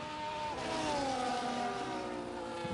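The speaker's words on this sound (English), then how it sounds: "there you see the Aston Martin safety car picks up Adamaco" An Aston Martin safety car in an F1 racing game, its engine a smooth tonal drone that sweeps gently downward in pitch, moderately loud and steady with no voices.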